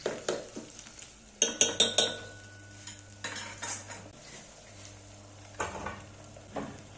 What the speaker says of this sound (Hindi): जब हल्की सी प्याज भुन जाए तो टमाटर भी इसी में मिला लेते हैं और इसे भी मिक्स करके हल्का सा भून लेते हैं